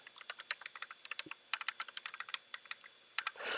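Rapid keystrokes on a computer keyboard come in quick irregular bursts, close and fairly quiet, with a short rushing noise at the end and no talking.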